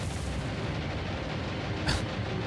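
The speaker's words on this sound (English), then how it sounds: "By that secondary explosion" Naval combat in the video game War on the Sea rumbles with continuous heavy gunfire and blasts, and a secondary explosion aboard a ship bursts out briefly near the end.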